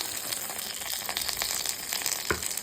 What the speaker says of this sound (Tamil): கடுகு, சீரகம், மிளகாய் வத்தல் இது போட்டு தாளிச்சாச்சு.